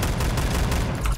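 A fully automatic Saiga 12 shotgun fires in a video game as a dense, loud, rapid burst of booming shots packed into about a second, with no talking.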